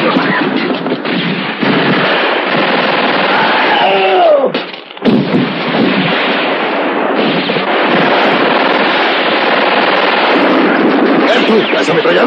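Machine gun fire in a battle scene from a western film: dense, loud, sustained bursts of rapid gunshots under a film soundtrack, with a brief dip in the middle before the shooting resumes.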